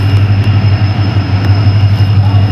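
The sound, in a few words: train passing nearby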